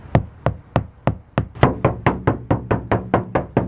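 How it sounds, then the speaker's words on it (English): Rapid, evenly spaced knocks on untreated car door sheet metal during a knock test, about a dozen sharp taps close to the mic, each with a brief metallic ring, the later ones fuller and slightly louder. "The knock test is where you tap the metal and tap something that isn't treated to see the difference in sound."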